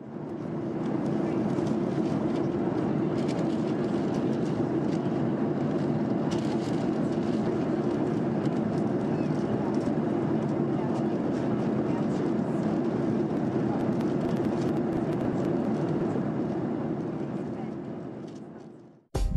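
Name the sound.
jet aircraft turbine noise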